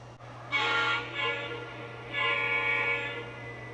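A Menards model train pulling a NW caboose runs around a layout, giving a steady close mechanical hum with a bright whistle-like tone that swells twice, over a constant low electrical drone.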